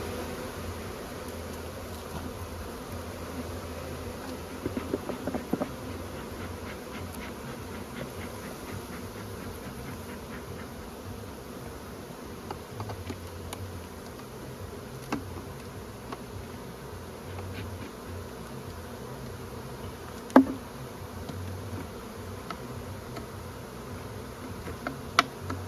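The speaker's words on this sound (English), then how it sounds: "This one looks like it has more bees than the other side." Honey bees swarm around an open beehive, a dense, steady buzzing drone close by, broken by a few faint clicks and knocks, with no talking.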